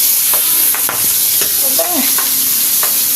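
Fish frying in a pan, a steady bright sizzle of hot oil with scattered spits and pops and a few utensil scrapes, close and continuous, with no talking.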